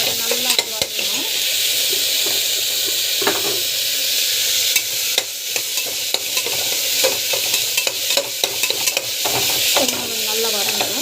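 Chicken masala with tomato and coriander sautés in a pan, with steady close sizzling and frying hiss broken by frequent scraping and stirring of a utensil against the pan, with no talk.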